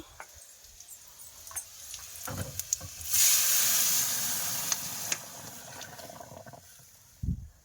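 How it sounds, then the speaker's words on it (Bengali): Green chilli, bay leaf and five-spice masala frying in hot oil with onion for dal, a close sizzle that surges loudly midway with steamy hiss, broken by stirring clatters and utensil knocks. "কাঁচা লঙ্কা, তেজপাতা আর পাঁচফোড়ন দিয়ে ভালো করে মশলাটা একটু লাল লাল করে ভেজে নিচ্ছি।"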